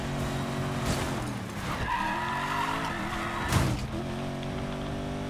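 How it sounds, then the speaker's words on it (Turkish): A car skids and squeals in the racing video game Need for Speed Payback. Tire squeal and engine roar run continuously and loudly, with sweeping pitch shifts and brief bursts as the car slides. "Ya, araba da çok kayıyor ya."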